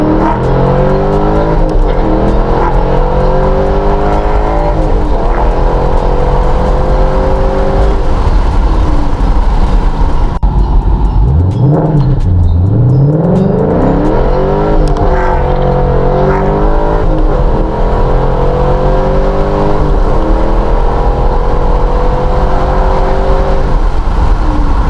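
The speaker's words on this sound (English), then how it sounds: "But let's get a pull down this baby." A 2014 Ford Mustang accelerates hard on a backroad, its engine loud and close as it climbs steadily through the revs, then briefly shifts and pulls again with a continuous roar.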